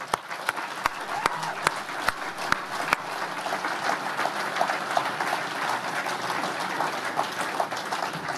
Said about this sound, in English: which I think deserves a massive round of applause.